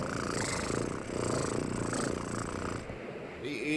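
A cat in the video game Bravely Second gives a continuous low, rumbling purr, close and steady, tapering off near the end.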